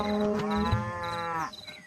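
A buffalo in an animated story lets out a single drawn-out, tonal low lasting over a second, close and clear, fading at the end with no talk.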